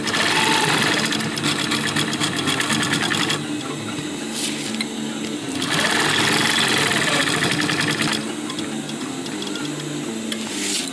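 Sewing machine stitching a fabric chest pouch pocket, a fast steady mechanical whir in two long runs with a brief slower pause between, close and loud with no talk.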